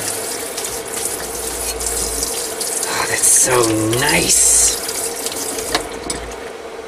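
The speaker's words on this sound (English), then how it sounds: "That is so freaking weird, having hot water at this tap after 5 years." Hot water runs from a tap in an RV, a steady hiss of flowing water throughout, with a person speaking briefly partway through.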